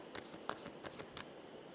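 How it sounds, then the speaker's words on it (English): A few soft riffling bursts of angel cards being shuffled, quiet and close, with short pauses between. "Shuffling for Miss Julianne."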